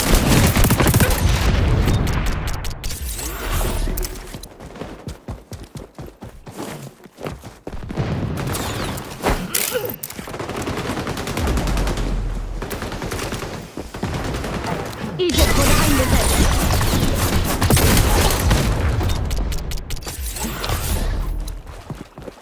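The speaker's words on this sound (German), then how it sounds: "Granate wird geworfen." A thrown grenade exploding in the shooter game XDefiant, heard amid dense bursts of rapid gunfire and booms that swell and fade across the scene, with occasional speech.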